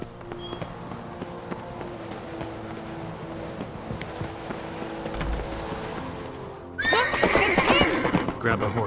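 A horse whinnies and its hooves clip-clop in The Witcher 3, with game music and ambience underneath; a brief neigh comes early, then a louder burst of hoofbeats and whinnying swells near the end.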